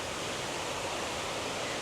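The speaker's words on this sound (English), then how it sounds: "A little waterfall." A small waterfall on the misty mountain Nakasendo trail between Magome and Tsumago makes a continuous, even rushing of water with no other sounds.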